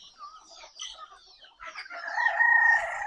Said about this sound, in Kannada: ದೊಡ್ಡ ಕೋಳಿಗಳು